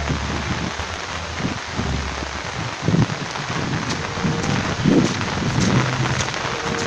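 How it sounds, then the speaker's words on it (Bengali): Steady rain pours in a village, a dense even hiss of drops on surfaces with a few louder patters and splashes rising briefly, no voices. "বৃষ্টি হচ্ছে"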